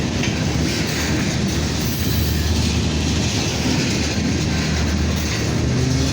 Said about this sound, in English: this is a boxcar coming